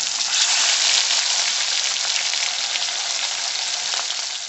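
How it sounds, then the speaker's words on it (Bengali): Pomfret fish pieces frying in hot oil in a wok give a loud, dense, rain-like sizzle that holds steady throughout and eases slightly toward the end, with no talking. "আরও 2 পিস মাছকে আমি কড়াইয়ের তেলের মধ্যে দিয়ে দিলাম।"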